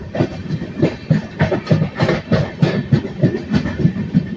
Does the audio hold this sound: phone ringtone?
no